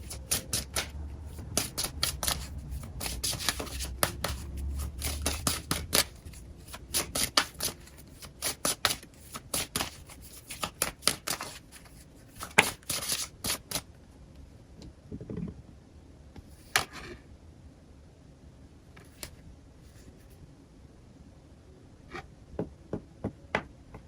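Tarot cards being handled and shuffled during a psychic reading: a dense stream of sharp, close flicks and slaps that thins out halfway into scattered single snaps against quiet.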